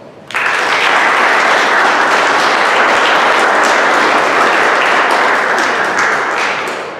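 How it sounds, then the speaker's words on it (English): A hall full of people gives a loud, sustained round of applause at a 7th grade promotion ceremony, the dense clapping starting abruptly and continuing for several seconds before easing slightly. "you deserve your own special round of applause"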